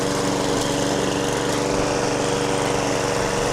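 Lawn mower cutting grass on a home lawn late in the mowing season, its engine droning steadily and loud at close range throughout, with no talking.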